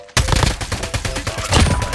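Rapid bursts of gunfire from the mobile shooter Call of Duty Mobile, a loud dense volley of repeated shots that starts abruptly and runs continuously with a heavier burst near the end.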